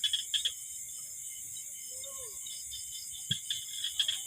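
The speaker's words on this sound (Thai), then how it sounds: "เสียงกบเสียงเกียด เสียงกอกเสียงแก๊กอย่างเดียว" Frogs croak at night in a rice field where fishing lines are staked, a steady insect-like chorus of chirps and croaks running throughout, with a few louder close calls near the start and end and one soft thump.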